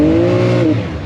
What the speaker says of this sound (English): that's my blow-off valve with the recirculating that's going into the air, shooting back into my air intake